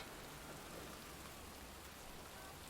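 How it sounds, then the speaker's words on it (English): Even downpour from the video game Heavy Rain, a faint, unbroken wash of rainfall noise with a low rumble beneath and no talking. "Maybe it doesn't like the rain effects."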